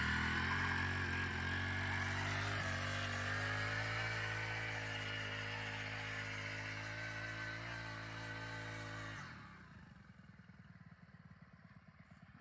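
A small engine on an intercrop sowing machine runs after a rope start, a steady close chugging drone with some clatter that cuts off abruptly near the end, leaving faint low noise.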